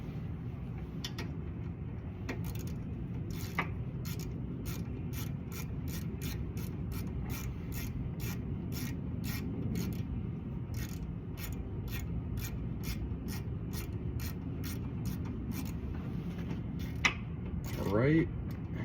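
Repeated ratcheting clicks from a wrench loosening the brake line fitting on a Honda Acty kei truck, steady rhythmic ticks over a low workshop hum, close by, with a brief metallic rattle near the end.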